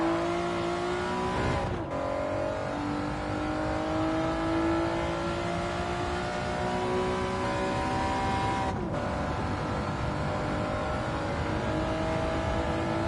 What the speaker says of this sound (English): Hear that VTEC kicking in right at the end of the rev range